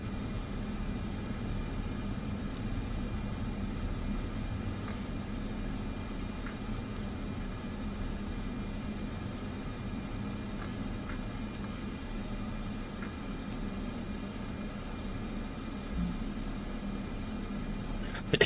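A Cessna Caravan's single turboprop engine drones steadily in Microsoft Flight Simulator, a continuous low rumble running alone at even loudness throughout.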